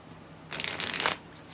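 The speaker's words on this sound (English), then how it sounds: "Just gonna keep shuffling." Tarot cards are shuffled by hand during a live reading, a single close, crisp riffling burst of about half a second that rises briefly before stopping, with quiet room tone on either side.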